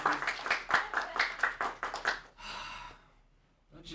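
A studio audience at a Passover program claps in a short burst of sharp, uneven claps that fades out after about two seconds, leaving quiet murmur and a brief rustle.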